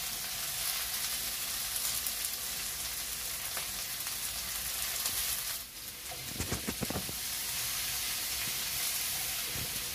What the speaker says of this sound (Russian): Лук обжариваем до золотистого состояния.